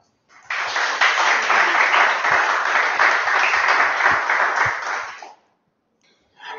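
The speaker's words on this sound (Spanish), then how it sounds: "damos un aplauso" An audience at a Spanish academic research presentation breaks into applause that stays loud and dense for about five seconds, then cuts off abruptly into silence.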